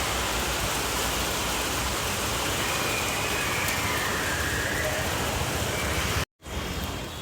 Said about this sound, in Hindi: तेज बारिश पड़ रही है।